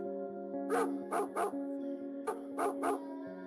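A dog barks in two quick bursts of three sharp woofs each, fairly close and loud over a steady musical background, while a pet plays fetch with a stick outdoors near a forest.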